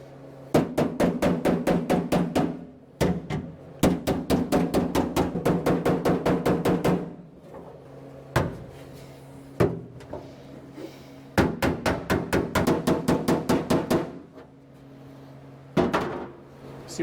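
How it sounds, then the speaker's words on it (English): Sheet metal for a 1986 Chevy K30 transmission tunnel hammered into a radius, sharp ringing blows in rapid bursts with short pauses between, close and loud. "Just hammering this little radius up to try to take up that gap we had."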